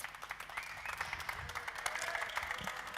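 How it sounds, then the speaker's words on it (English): A round of applause from a conference audience in Sundsvall, a dense patter of clapping heard at a modest distance, continuing steadily throughout. "Giving a round of applause."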